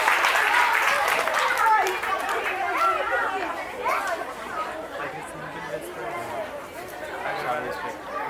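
Audience at an Independence Day function clapping for a police officer invited onto the stage, with scattered applause mixed into loud crowd chatter and voices throughout.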